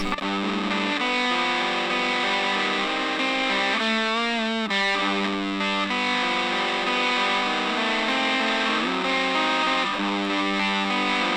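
An electric guitar played through a distortion pedal plays sustained chords and bends, thick and buzzing, with no talking.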